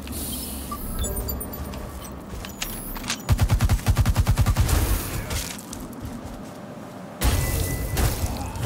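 Gunfire in The Surge 2 video game: rapid bursts of automatic shots, a tight rattling volley in the middle and a heavy blast near the end, loud over a low ambient game backdrop.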